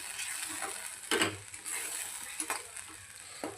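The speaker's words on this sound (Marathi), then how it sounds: "आता यातलं पूर्ण तेल निघेपर्यंत आपल्याला मसाला असाच पद्धतीने परतून घ्यायचा आहे" Masala and mashed tomato sautéed in hot oil in a pan, giving a steady frying sizzle with a few louder scraping stirs of a spoon against the pan, close up.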